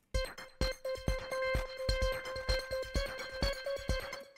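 A Surge synth plays a fast arpeggio sequence of bright plucked tones with a steady pulsing rhythm, clear and alone with no voices.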